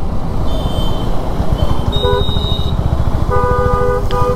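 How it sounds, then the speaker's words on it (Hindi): Vehicle horns honk in congested Delhi traffic near Gaur City, with several loud, near toots of varying length over a rumbling motorcycle engine and road noise. "क्यों हॉर्न मार रहा है वे।"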